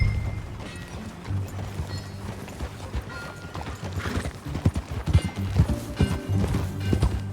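Horse hooves clip-clop steadily in Red Dead Redemption 2 over a rumbling, noisy background, the footfalls growing louder and more distinct toward the end.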